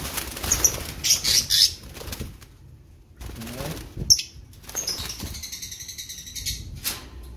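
Viola Green lovebirds flap their wings in loud, fluttering bursts as they are caught from a breeding cage, with sharp chirps and squawks mixed in and a voice talking intermittently underneath.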